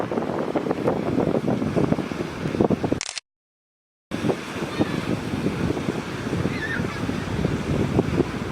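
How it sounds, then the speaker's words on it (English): On a windy Florida beach, wind rumbles across the microphone over a constant wash of surf, broken by a brief dropout of total silence. "We're at the beach."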